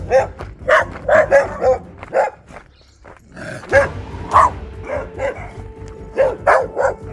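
Several dogs bark outdoors along a road, with repeated loud close barks and yips in irregular bursts, briefly easing before resuming with overlapping barking from more than one animal.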